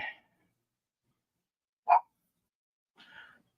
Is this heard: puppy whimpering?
yes